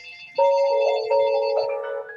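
An office phone rings with an incoming call, a loud, close electronic ringtone of repeated melodic tones with no talk.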